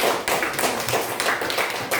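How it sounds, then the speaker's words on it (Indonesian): A group of people clapping for a group in a classroom, quick uneven bursts of handclaps close by, loud and continuous. "Tepuk tangan untuk kelompok."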